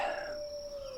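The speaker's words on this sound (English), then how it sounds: "that was the perfect wolf howl" A wolf howl from a tabletop game session, a single sustained, steady tonal cry held close and fairly loud, starting with a brighter burst and trailing on as one long even note.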